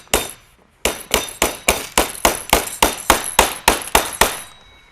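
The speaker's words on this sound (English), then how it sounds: "Take my hammer and tap that in there." Hammer taps a metal pin into a wooden and canvas duck decoy set on a plastic table. After a short pause, about fourteen sharp, evenly spaced taps follow one another close up, and no voices are heard.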